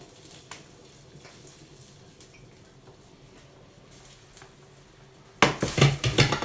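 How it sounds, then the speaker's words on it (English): Liquid is tipped back into a stock pot, arriving as a short, loud splashing pour near the end after a stretch of quiet kitchen clatter and room tone. "I'll tip it back into the stock pot"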